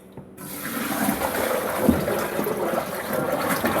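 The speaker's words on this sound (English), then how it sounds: "So I'm going to dump out the old water just like this." Old water is poured out of a humidifier tank into a basin, a steady gushing splash that starts suddenly and runs without a break, loud and close, with no talk.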